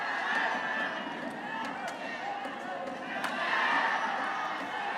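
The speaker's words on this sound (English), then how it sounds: "Listen to the crowd getting into this." Crowd at a professional men's singles badminton match reacting with a lively murmur and scattered cheers and claps, moderately distant, with occasional sharp shuttle or shoe sounds.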